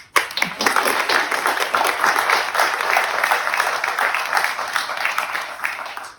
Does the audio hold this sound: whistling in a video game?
no